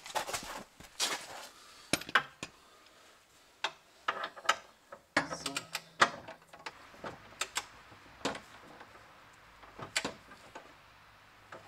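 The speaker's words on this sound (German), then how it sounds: "in der Anleitung steht, alle M12er Schrauben mit 87 Newtonmetern anziehen." A ratchet or torque wrench tightens M12 bolts to 87 Nm while a tow hitch is fitted to a Nissan X-Trail, giving scattered sharp metallic clicks and clacks at an irregular pace, fairly quiet and close.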